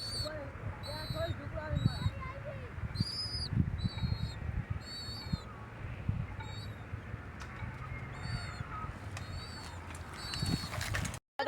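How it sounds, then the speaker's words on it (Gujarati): Pigeons being fed grain give repeated high, quavering calls in short bursts, over a busy low background of rumbling noise and indistinct voices. "અમારો ભાઈ કબૂતરને ચણ ખવડાવે છે"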